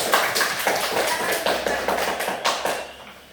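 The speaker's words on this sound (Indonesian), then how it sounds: "Beri tepuk tangan untuk kelompok 1." Applause from a group, a dense patter of hand claps that swells and fades over a few seconds.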